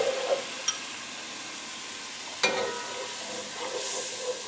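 A wooden spoon stirring flour into a gumbo roux in a pot, giving a soft continuous sizzle with a couple of sharp scraping knocks, no voices.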